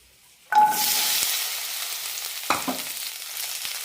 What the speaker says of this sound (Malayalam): ഇതിലേക്ക് ഒരു ടീസ്പൂൺ എണ്ണ ഒഴിച്ചെടുക്കാം വെണ്ടയ്ക്ക് നന്നായി ഒന്ന് വാട്ടിയെടുക്കാം